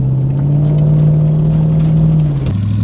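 A V8 Land Rover Discovery fitted with a loud aftermarket exhaust drives across a field, giving off a loud, steady, deep engine drone close by that shifts slightly near the end.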